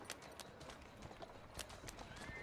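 Horse hooves clip-clop on a street in the Assassin's Creed Syndicate video game, a quick, uneven run of soft hoof beats that goes on steadily at a low, fairly distant level, with no talking.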